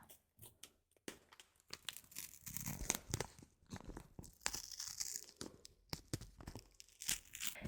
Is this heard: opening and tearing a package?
yes